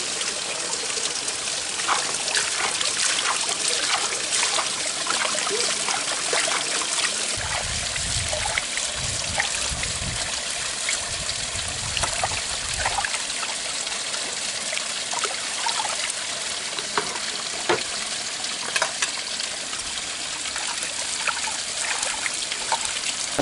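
Water runs steadily from a village spout, a continuous close trickling and splashing that stays loud and even throughout, with a brief low rumble partway through.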